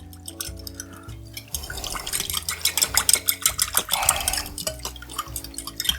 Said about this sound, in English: I'm gonna stir that into a gravy